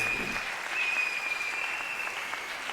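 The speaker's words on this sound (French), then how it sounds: "On peut applaudir pour eux." Steady applause from a church congregation honoring parents during a service, a dense continuous patter of clapping that fills the room at an even level throughout, with a faint sustained tone running beneath it.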